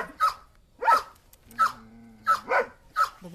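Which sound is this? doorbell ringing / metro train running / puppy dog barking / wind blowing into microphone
puppy dog barking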